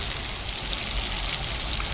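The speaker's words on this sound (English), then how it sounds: "pepper, rosemary and steak. Frying in butter." Steak seasoned with garlic powder, salt, pepper and rosemary fries in butter over a camp stove, giving a steady, close crackling sizzle for the whole stretch with no voices.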